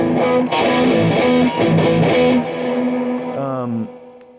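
A heavily distorted electric guitar, played through a Tube Screamer overdrive into a distortion pedal, plays chords and sustained notes with a thick, fuzzy tone, ending on a bending note that fades.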